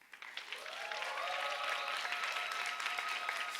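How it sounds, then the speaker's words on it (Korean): A youth church congregation bursts into loud applause and cheering on request during a Sunday service, the clapping rising quickly within the first second and holding as a dense, sustained roar of hands and voices. "박수 한번 크게 쳐주시고 환호성 한번 질러 주실 수 있나요?"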